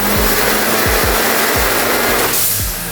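A loud, roaring Subaru engine revving with a harsh broadband rush and a few pulsing surges, close by and continuous, easing slightly at the end.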